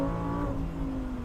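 An Italian supercar's engine in a racing video game holds a strong, steady drone that shifts pitch briefly partway through, close and alone with no talk.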